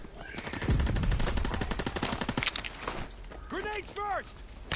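Suppressed automatic fire in Call of Duty WWII multiplayer: a rapid burst of muffled shots in quick rhythm, then a pause and a few whooshing game effects, with a player's voice talking over parts of it.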